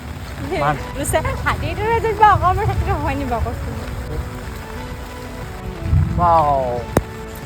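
Heavy rain falls in a steady, even hiss throughout, with voices talking over it for the first few seconds and again briefly near the end.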